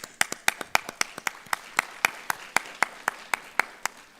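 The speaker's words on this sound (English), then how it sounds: "I love you to give another applause for our guest speaker, Assistant Professor Piyanat Soikam" Sparse, evenly spaced claps, roughly a dozen over four seconds, sounding like one or two people clapping fairly close by rather than a full crowd, at an academic seminar for a guest speaker.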